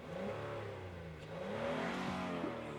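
Honda Ridgeline TrailSport V6 engine revving, pitch climbing and falling through a couple of throttle blips, moderately close and somewhat muffled, with no talking.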